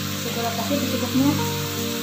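Continuous sizzling of tempeh frying and simmering in a pan, with light stirring noises and a faint voice in the background.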